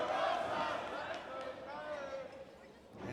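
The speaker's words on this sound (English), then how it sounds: "Listen to the fans here tonight in Chicago." A wrestling crowd at a Chicago stadium show roars and shouts in a loud, continuous wash of excited voices that eases slightly toward the end.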